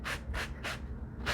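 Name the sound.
sanding block sanding denim folds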